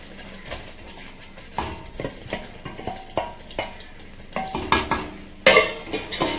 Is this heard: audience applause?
no